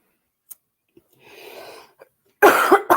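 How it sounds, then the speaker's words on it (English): A few small clicks and a long breath, then a loud, close cough in two quick bursts. "Sorry, guys, for the cough"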